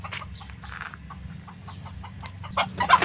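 Native chickens kept behind a rural hut in the Philippine countryside cluck in short, scattered bursts close by, ending in a louder, busier flurry of calls.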